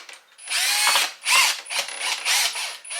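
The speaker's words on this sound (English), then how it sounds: "We're going to put our first screw in." A power drill drives a screw into the frame of a Jeld-Wen transom window, giving a few close, loud bursts of whirring and ratcheting with short pauses between them.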